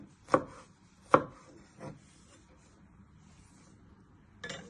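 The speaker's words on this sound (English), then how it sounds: "You bring it all back together and you just want to chop it into little pieces." A knife chops vegetables into little pieces on a board: three sharp, separate thuds about a second apart, then a pause and a softer fourth chop, close up in a quiet kitchen.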